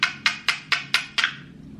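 Toy hammer pounding a children's toy: six sharp, evenly spaced knocks about a quarter second apart, close and clear, the last one ringing out into quiet.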